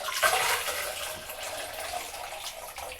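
Water pours steadily from a Niagara chrome fixed showerhead into a jug, a continuous close hiss and splash with no talking.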